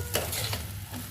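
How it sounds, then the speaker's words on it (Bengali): Food sizzles steadily in a hot pan, with a few scraping stirs of a utensil breaking through the frying hiss. "এখানে আমি নাড়াচাড়া করে নিয়ে ওকে ভাজা ভাজা করে নিব"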